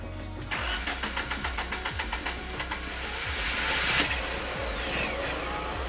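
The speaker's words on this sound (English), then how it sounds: "After the generator is started" A marine generator aboard a Beneteau GT36 cranks with rapid rhythmic chugs, then catches and settles into a steady mid-pitched running hum, close and fairly loud with no voices.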